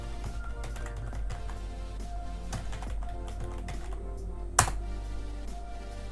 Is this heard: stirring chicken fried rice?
no